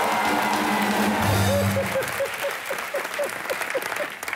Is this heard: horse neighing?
no